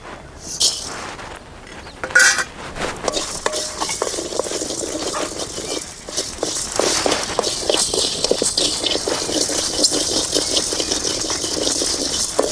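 Red chilies and coriander seeds are dry-roasted in a hot pan for urad dal curry, with a dry rattling scrape of stirring and tossing, some sharp clinks early, then a steady busy crackle growing louder, no talk.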